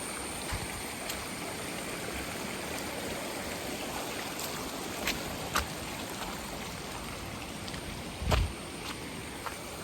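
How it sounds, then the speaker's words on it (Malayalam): A rain-swollen stream in flood, nearly overflowing its banks, rushes in a steady, loud, close roar, with a few brief louder splashes breaking through. "ഇപ്പോൾ ഫുള്ള് കരകവിഞ്ഞ് ഒഴുകാറായിക്കൊണ്ടിരിക്കുകയാണ്"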